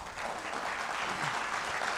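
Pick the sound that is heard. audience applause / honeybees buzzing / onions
audience applause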